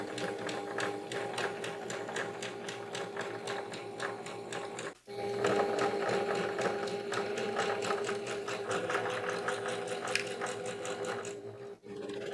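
A sewing machine stitches quilt pieces corner to corner, running with a steady rapid mechanical rattle that briefly stops about midway and again near the end.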